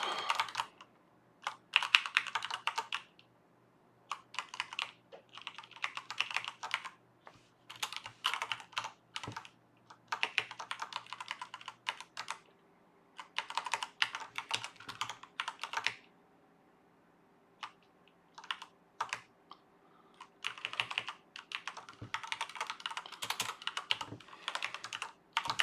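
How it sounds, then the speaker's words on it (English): Steady typing on a computer keyboard during C# coding, clustered bursts of rapid key clicks separated by short pauses, close and crisp with no talking. "So that was a lot of typing for a simple change of order."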